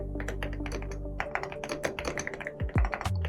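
Typing on a computer keyboard, heard as a close, steady patter of quick key taps over a low background hum, with a few heavier thunks near the end.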